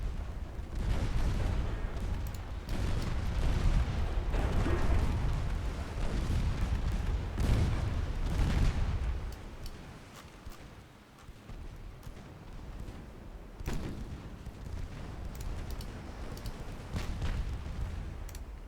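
Naval explosions and a torpedo hit in a warship battle game: heavy, rumbling booms and gunfire bursts that roll on loud and continuous for most of the stretch, then ease to a lower, steady rumble with occasional sharp blasts.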